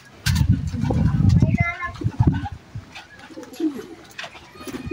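Racing pigeons coo with low, soft throaty calls, close by during a derby in Vigan, Ilocos Sur, mixed with rustling and a person talking in the background.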